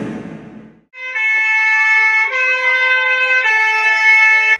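An emergency alert system siren from another country, loud layered electronic tones that step and bend in pitch like a novelty car horn, sustained for several seconds after a short burst of softer noise.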